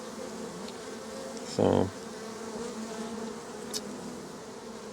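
Honeybees drone steadily from an opened hive during a queen check, close and continuous, with a brief low spoken word cutting through partway.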